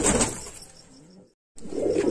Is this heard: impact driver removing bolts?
no